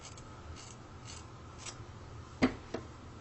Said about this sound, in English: I'm just going to cut them straight across.